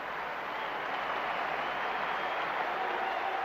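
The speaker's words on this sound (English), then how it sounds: "The ovation acknowledged his enormous contribution to the game" A cricket Test crowd gives a sustained ovation as Viv Richards walks out for his last Test innings, a steady wash of applause and crowd noise running throughout without a break.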